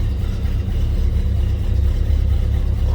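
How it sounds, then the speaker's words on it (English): A 1968 Buick Skylark Custom hardtop's 350 V8 rumbles steadily at idle, a deep, even, close-up throb with no voices over it. "Nice little, kind of nice little rumble coming out of that 350."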